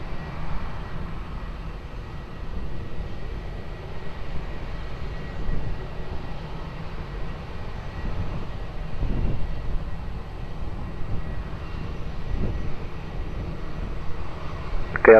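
An Airbus A321 rolling along the runway at Lisbon Airport, a steady distant jet engine rumble and low roar holding throughout with slight swells, heard alone without talking.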